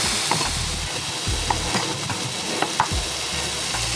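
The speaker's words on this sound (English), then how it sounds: "we're gonna keep stirring this up" A pot of Ital stew with cassava and chickpeas being stirred, giving soft scraping and sloshing strokes over a steady low simmer, with a few sharper clinks of the spoon against the pot, close and alone.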